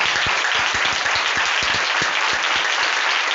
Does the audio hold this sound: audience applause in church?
yes